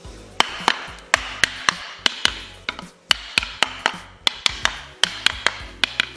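Repeated sharp taps of a soft mallet on the mechanical seal of a Shimizu PS 226BIT water pump, a steady series of close, crisp knocks about every third of a second with no talk.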